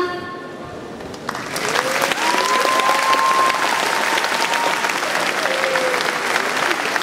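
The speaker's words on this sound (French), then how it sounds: "Il faudrait quand même qu'on applaudisse double fois la performance." An audience at the Utopiales 2014 cosplay contest bursts into applause after a Frozen and Sleeping Beauty themed performance. Steady clapping rises abruptly after a quiet moment and continues loud and dense to the end.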